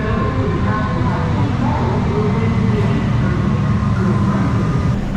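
A train rumbles along the line in Melbourne, a loud, steady low roar of wheels and motor with faint squealing tones, continuous throughout.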